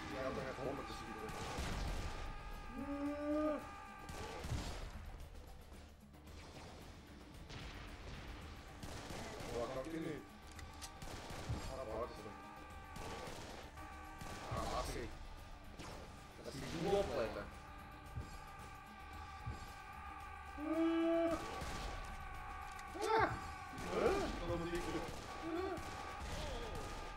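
Serious Sam 3 combat with enemies firing guns in repeated bursts and crashes amid music-like tones, fairly soft overall, while a player talks on and off throughout.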